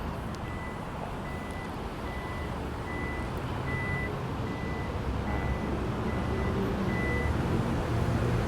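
The power tailgate of a 2021 Toyota Fortuner 2.8 Legender 4WD opens. A clear, regular warning beep repeats evenly over a constant low engine idle rumble.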